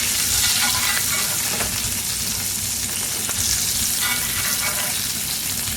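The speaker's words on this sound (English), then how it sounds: "let's do another little bit of basting going" A steak sizzles loudly in hot oil during basting, a dense, continuous frying crackle close up with soft spoon scrapes.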